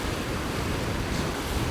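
Sea swell washes over rocks at a winter fishing spot on a rocky island, a constant broadband roar of surf mixed with wind buffeting the microphone, steady and close with no voices.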